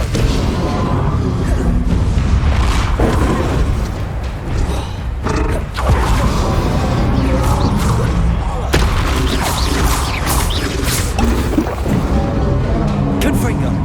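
Repeated Confringo fire-spell explosions in Hogwarts Legacy combat: dense, loud booms and crashes recurring over a steady roar of battle noise, with voices mixed in throughout.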